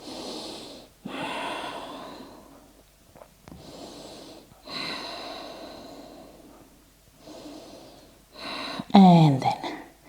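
Deep, slow breaths during a yoga flow, long audible inhales and exhales repeating close to the mic, ending with a louder sharp breath or snort.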